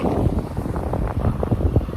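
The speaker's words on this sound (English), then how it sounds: "It's kind of windy again" Strong wind buffets the microphone with a constant, gusty low rumble, loud and close, with no one speaking.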